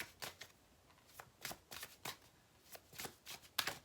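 Tarot cards being shuffled by hand in a series of crisp, riffling bursts with short pauses between them, close and fairly quiet, with no voices.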